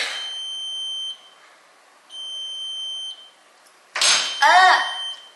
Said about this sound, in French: Ah, le four est ça! Ça sonne 2 minutes trop tôt, j'ai mis le mauvais timer